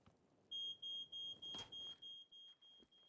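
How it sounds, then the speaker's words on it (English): Electronic alarms sounding in the video game Generation Zero: a steady series of about eight evenly spaced, high-pitched beeps, fairly faint but clear, with no talking. "I do not like the sounds of those alarms."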